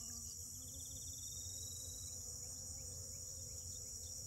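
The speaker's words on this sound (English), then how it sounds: "Today we are being serenaded by honeybees. Thousands, thousands of honeybees." Thousands of honeybees work the tiny blossoms of buck brush on a green grass pasture farm, making a steady, continuous insect drone that fills the whole stretch with no talking.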